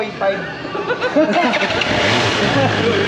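A motorcycle engine fires up and revs, its rough mechanical roar rising and holding steady, with some background chatter from people nearby.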